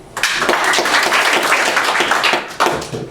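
An audience at a stand-up comedy club breaks into loud, close clapping that runs for about two seconds, then tapers off before a brief final burst.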